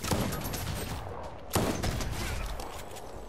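Rapid bursts of gunfire from other players in the video game Fortnite crackle at a moderate distance, with a sharp volley at the start and another louder burst midway.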